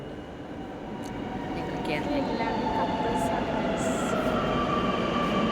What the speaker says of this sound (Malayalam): ഞങ്ങളുടെ മെട്രോ വണ്ടി വരുന്നുണ്ട്.